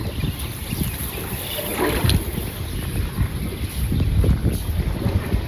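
A boat on a river moves through strong wind, with loud steady gusting rumble buffeting the microphone and some soft splashing underneath.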